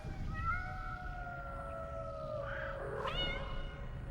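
Cats in the video game Nine Sols meowing, several drawn-out rising and falling meows layered over a low ambient game backdrop, fairly faint and with no talk.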